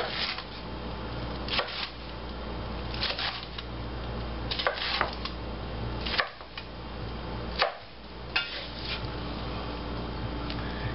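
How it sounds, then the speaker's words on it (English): A knife chops green chilies repeatedly on a cutting board, crisp uneven strokes in short bursts, close up, over a low steady hum. "Now we've got the majority of our chopping done"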